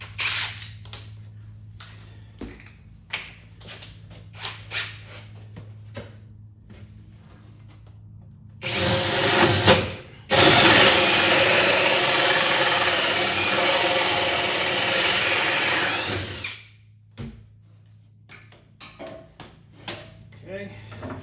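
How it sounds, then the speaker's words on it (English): A 2-inch hole saw bores through a piece of plywood during an arcade cabinet restoration, a loud grinding drill run of about eight seconds with a brief pause, set between quieter handling clicks and talking. "let me grab a big hole saw and we'll put a hole in that piece of plywood"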